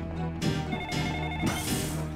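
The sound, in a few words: telephone ringing in a Dreamcast video game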